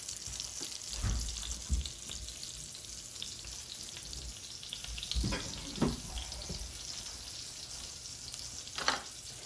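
German schnitzel frying in a hot cast iron pan gives a steady crackling sizzle throughout, broken by a few sharper clatters and pops, heard alone without talk.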